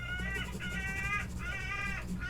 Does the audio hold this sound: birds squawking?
yes